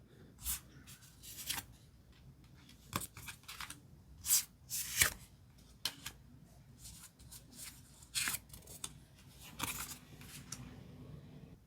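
Tarot cards shuffled and drawn for a five-card spread, with quiet close-up rustles, slaps and soft snaps of the deck in irregular bursts, no talking.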